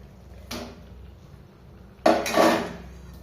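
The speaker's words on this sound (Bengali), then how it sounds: "পনিরগুলো আলুর সাথে মিশিয়ে নিচ্ছি।" A utensil stirs paneer and boiled potatoes in a metal pan, giving two separate bursts of clanking and scraping, the second longer and louder, over quiet background.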